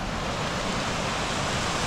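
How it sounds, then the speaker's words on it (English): A small Himalayan waterfall and stream, with snow and ice melting nearby, pouring in a dense, steady rush of broadband water noise, close and loud, unbroken for the whole moment with no voices. "I can hear rushing water. Oh, look at that, a little waterfall with a stream."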